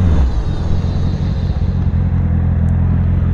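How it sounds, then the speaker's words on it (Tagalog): A Honda CB650R motorcycle engine during a brake test from 60, a steady, close, loud rumble holding throughout with no voices. "brake test at 60 in 3, 2, 1,"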